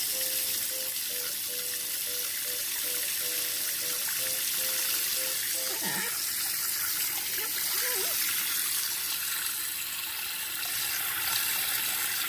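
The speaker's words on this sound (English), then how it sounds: "So let's put some water through it and see if it works." Water poured through a freshly cleared household sink drain, a steady broadband rush and splash that holds constant throughout, with a brief faint gurgle near the middle and no voices.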